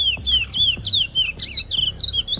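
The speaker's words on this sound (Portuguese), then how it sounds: "Esse é o curió, pássaro que vive na Amazônia" A curió seed finch, an Amazon songbird, sings a run of clear, high whistled phrases in quick succession, close and loud, with faint low clicks and knocks underneath and no talking.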